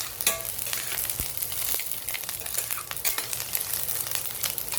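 Onion and dried garlic fry in a pan for a home lunch, a steady close crackling sizzle with occasional stirring scrapes, no talking.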